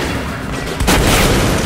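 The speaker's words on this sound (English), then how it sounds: "Just stop shooting." Enemy gunfire in the video game Metro: Last Light: a steady rumbling barrage, with a heavier booming burst of shots arriving near the end and continuing to the close.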